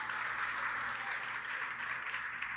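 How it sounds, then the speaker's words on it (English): Dense applause and cheering fill SpaceX Mission Control after a booster landing in a steady, even wash of clapping, with no distinct voices standing out. "An eruption of applause here at SpaceX Mission Control"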